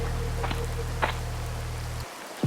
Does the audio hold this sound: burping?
no